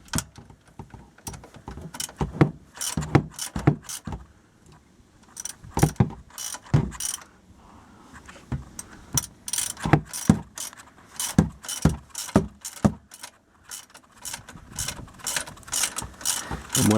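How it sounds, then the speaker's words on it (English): A 1/2-inch drive ratchet with a 14mm socket loosening an oil pan drain plug, making sharp, close metallic clicks in quick irregular runs with brief pauses, heard alone. "This is just a 1/2-inch drive ratchet with a 14mm socket."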